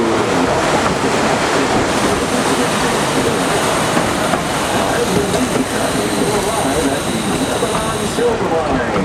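Georgetown Loop Railroad tourist train running along its track, a steady loud rumble and rattle of wheels and cars throughout, with a faint high squeal near the end.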